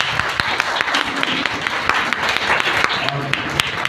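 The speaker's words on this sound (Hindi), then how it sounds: "सारे पास्टर के लिए ताली जोर से।" Congregation applauding for pastors at a Hindi-language church service, a steady wash of many hands clapping at moderate loudness, with some voices mixed in.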